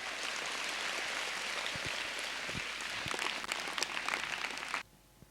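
An audience at a St Joseph High School speech claps and applauds, a dense sustained patter of many hands that carries on evenly before stopping abruptly near the end.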